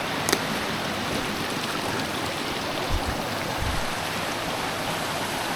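A mountain stream rushes steadily into a swimming hole in the Smoky Mountains, a dense close hiss of flowing water with a couple of faint knocks, no talking.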